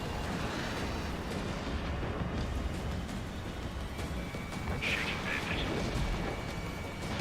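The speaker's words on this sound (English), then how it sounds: "Spare 15, launching missile." Missile launch and explosions in the jet combat game Ace Combat 7: a dense, steady roar of rumbling blasts and engine noise that holds throughout, with a brief brighter whoosh partway through and a sharp pop at the very end.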